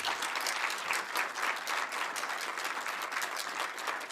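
An audience at a Senate lecture applauds to welcome the speaker, dense sustained clapping filling the room evenly throughout.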